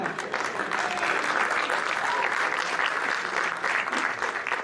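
A church audience breaks into sustained, fairly loud applause after a preacher's joke, dense clapping filling the room evenly throughout.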